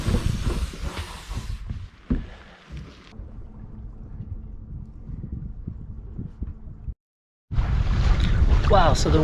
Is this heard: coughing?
no